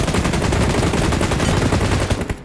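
Sustained burst of M249 machine gun fire in the mobile game PUBG Mobile, a loud continuous rapid rattle of shots lasting a couple of seconds before cutting off, with no talking over it.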